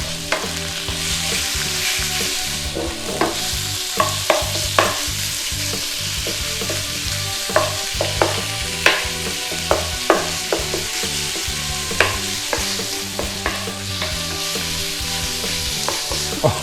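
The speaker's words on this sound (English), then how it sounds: "Get the beef in there. And start cooking down your beef." Beef sizzles loudly in a hot pan for a Thai pad kra pao, with a constant frying hiss broken by repeated scraping and clacking of a utensil stirring the meat.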